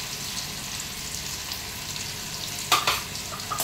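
Onion and tomato frying in a pan with mustard seeds, a steady close sizzle with a couple of sharp utensil scrapes near the end.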